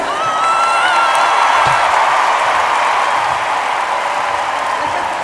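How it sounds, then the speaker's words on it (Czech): A theater audience gives the parents sustained, loud applause, a dense and continuous wash of clapping from a large crowd. "Takže dámy a pánové, ještě jednou velký potlesk."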